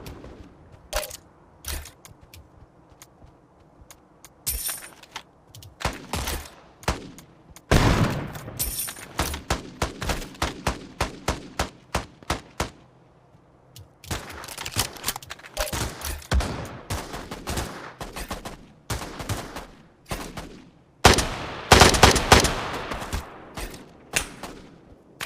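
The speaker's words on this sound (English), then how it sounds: "It's that automatic shotgun that looks like a pump shotgun." An automatic shotgun, the Bamboo Special, fires in rapid bursts of sharp loud blasts, some volleys dense and fast, others spaced single shots, with brief quiet gaps between strings of fire.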